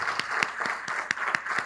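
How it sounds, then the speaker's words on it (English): A college summit audience applauds a college president. The clapping is moderate and continuous, with a few sharper individual claps standing out over a soft crowd murmur. "Could we give her a round of applause?"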